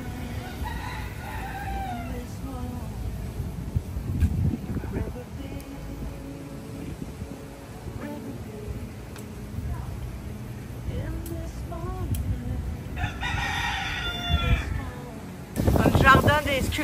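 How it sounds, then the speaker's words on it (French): Roosters crow repeatedly in the near distance in the Florida Keys over steady background noise, with a louder burst near the end. "entendez toujours nos amis les coqs"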